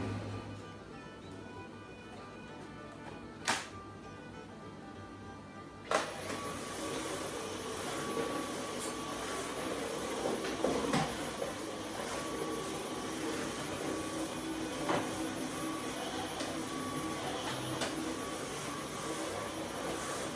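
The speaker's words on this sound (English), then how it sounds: "the Dyson made very quick work of sweeping up this space" A Dyson vacuum runs with a steady, whining broadband roar while cleaning a barn office floor. A couple of sharp knocks come just before it settles into a continuous drone.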